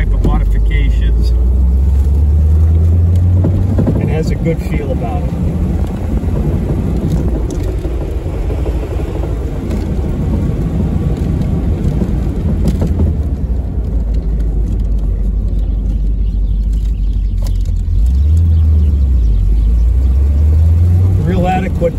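A 1969 Chevrolet Corvette L36 427/390 convertible with a 4-speed rumbles loudly on the road, a low engine drone with swells as it accelerates, while someone talks over it inside the car.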